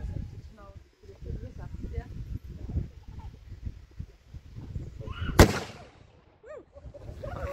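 A medieval cannon fires once with a single sharp, loud blast partway through, amid outdoor crowd murmur and people talking before and after.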